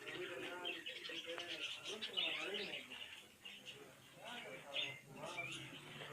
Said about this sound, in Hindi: वीवर्स ये रहे कबूतर